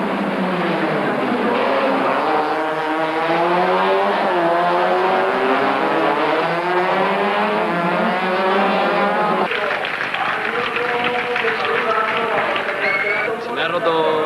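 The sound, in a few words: race car on the finish straight at Alcañiz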